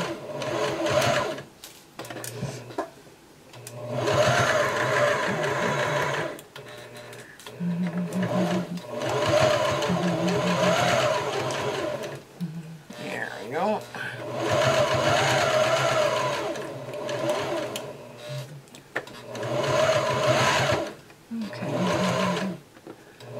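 A sewing machine stitches a quilt seam on a sunflower quilt, running in steady loud bursts of rapid stitching separated by short pauses, close up, with no talk over it.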